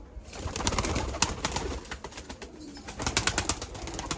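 Pigeons coo repeatedly over a busy background of wings and scuffling. The soft, rolling calls overlap and continue throughout.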